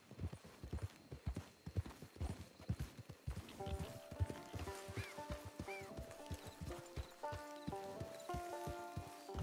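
Steady clip-clop of horse hooves trotting at a brisk pace in Red Dead Redemption 2, joined partway through by soft, quiet game music tones.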